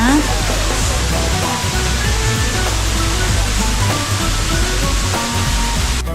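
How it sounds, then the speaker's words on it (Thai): A waterfall in a cafe garden in Bang Saen, Chonburi rushes with a constant, loud, broadband wash of falling water, steady throughout and heard up close. "ฟังเสียงน้ำตกได้เลยนะ"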